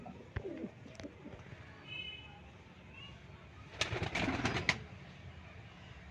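A Kasuri bloodline breeder female pigeon coos softly indoors, with faint low calls and a brief burst of fluttering or rustling near the end, all quiet and close.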